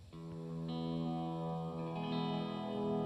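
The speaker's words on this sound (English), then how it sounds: "this patch right here, you can hear fuzz in there, but it's buried very low" Sustained electric guitar chords with a thick, effected tone, a faint fuzzy grit sitting low beneath the chorus-like shimmer, played alone.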